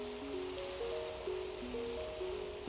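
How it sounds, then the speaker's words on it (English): Video game rain falls in a steady, even hiss with soft pattering throughout, accompanied by a gentle melodic tune of sustained tones. "Oh no, it's raining."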